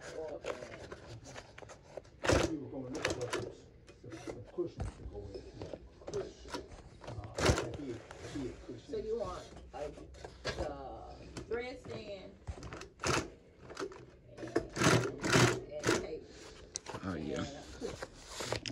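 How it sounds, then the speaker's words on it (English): A repaired sewing machine stitching after a needle change and adjustments, an uneven run of mechanical clatter and tapping with loud knocks, under someone talking throughout. "So he changed the needle, did some adjustments, and it says good."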